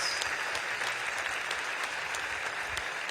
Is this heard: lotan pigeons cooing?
no